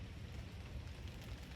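Light rain falls outdoors as a soft, steady hiss of drops, faint and even throughout with no voices.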